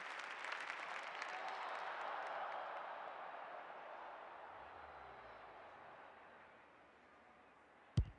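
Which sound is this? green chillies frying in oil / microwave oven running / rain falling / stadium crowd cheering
stadium crowd cheering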